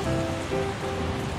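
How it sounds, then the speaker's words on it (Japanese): Rain falls steadily on a surface near a Kintetsu Nara Line station, a dense patter heard throughout with a few faint tonal hums over it and no talking. "雨や"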